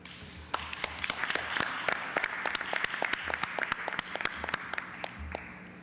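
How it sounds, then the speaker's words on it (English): An audience at a conference session on scaling up gives scattered, moderately loud applause, with individual claps distinct and steady throughout and little talk. "a big applause to all the participants, yourself, and the panelists"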